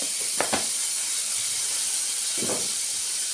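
Turkey berries frying in a pan with a little turmeric give off a steady, hissing sizzle, with a couple of brief louder crackles near the start and another burst later.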